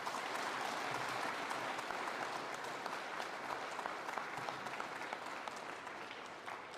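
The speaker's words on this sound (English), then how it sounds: "Let's give him a round of applause." A school Veterans Day assembly crowd applauds a cadet, with sustained, fairly distant clapping that stays even and slowly thins toward the end.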